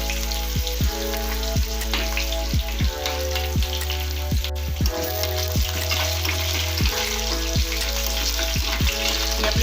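Sesame seeds hit hot oil for a tempering for instant rava dhokla, giving a steady, close sizzling crackle with sharp pops over soft background tones.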